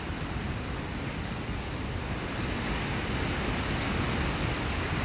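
Surf washing steadily onto Moonstone Beach, a sandy shore mostly covered by the high tide, with a continuous broadband roar and no clear gaps between breakers, close and fairly loud.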